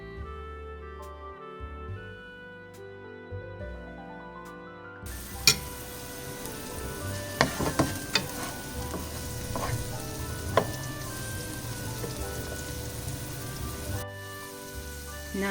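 Onions for an eggplant shakshuka fry and are stirred in a pan, a steady close sizzle with occasional sharp scrapes and taps, preceded by a few seconds of music before the frying begins.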